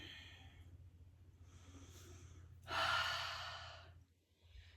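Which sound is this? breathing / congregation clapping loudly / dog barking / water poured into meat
breathing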